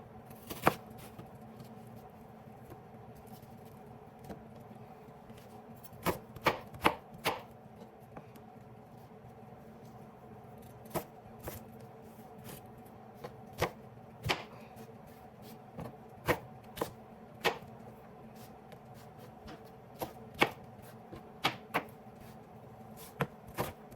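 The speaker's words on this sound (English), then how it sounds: "we're on to our last segment of onion. And when we're done cutting this" An onion is sliced with a knife on a board, giving a long series of sharp, close, irregular cutting taps that come in short bursts with quiet gaps between them.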